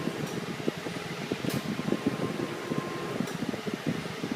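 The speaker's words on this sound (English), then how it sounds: "Its compressor's cycling quite a bit." A Daihatsu Hijet mini truck's air conditioning, freshly topped up with Freon, whirs steadily with a fan-like rush and a faint repeating pulse as the compressor cycles, close and constant with no talk.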